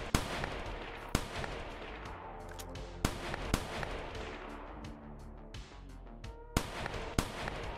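Gunfire in the VRChat game: a series of sharp, loud, isolated shots spaced irregularly over several seconds, some in quick pairs, over a low, busy background.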